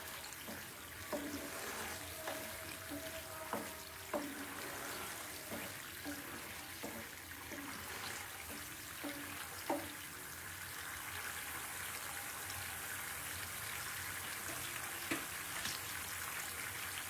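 Paneer kofta curry simmers in a pan, giving a steady bubbling, hissing wash with small pops and clicks scattered throughout, close and continuous with no talk.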